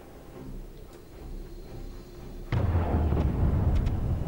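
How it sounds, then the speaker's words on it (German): An explosion in the video game Wolfenstein booms suddenly midway, a loud low burst that lingers as a rumbling roar over a quieter ambient game background. "Oh, da ist was explodiert."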